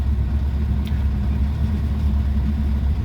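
A 1954 Ford Popular 103E idles close by, giving a steady low mechanical rumble with an even beat that holds constant throughout, with no talk over it.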